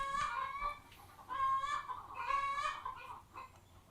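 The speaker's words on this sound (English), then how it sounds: "Shut up, chickens." Backyard chickens clucking close by in several rising, strained bursts with short gaps between, fairly loud and with no talking.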